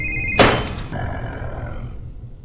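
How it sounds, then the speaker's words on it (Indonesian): A mobile phone rings in a film scene with a steady, tonal ringtone. A sudden thump cuts it off, then a low rumbling hum carries on and fades. "HP yang berbunyi sejak tadi adalah milik BK"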